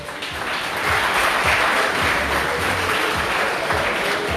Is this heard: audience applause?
yes